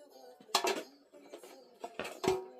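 Metal frying tongs from an unboxed kitchen set are handled, giving a few faint clinks and rattles, with a small cluster near the start and another near the end, in a quiet room.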